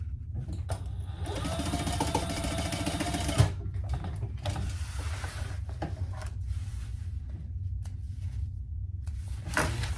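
A sewing machine stitches to reinforce a seam on a fabric storage caddy. It whirs close and steady, pauses briefly about a third of the way in, then runs on with small mechanical clicks.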